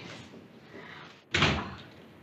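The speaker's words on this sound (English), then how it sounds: "The door's open." A door opens with one sudden close whoosh and rush of sound, then a fading tail, over a quiet room tone with no talking.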